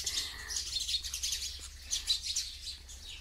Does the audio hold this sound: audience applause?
no